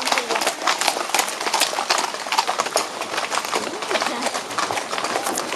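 Horse hooves clip-clopping on pavement during a horseback parade in Turrucares, a quick, busy stream of hoof strikes from several animals, fairly close, with voices faintly in the background.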